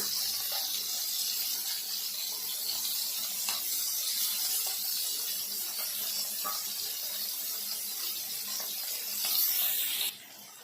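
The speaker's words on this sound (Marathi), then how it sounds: "ही ऑइल सोडून घ्यायचं आहे मच्छीवर" Oil sizzling on surmai fish frying in a pan, a steady bright hiss close by that holds for about ten seconds before dropping off abruptly.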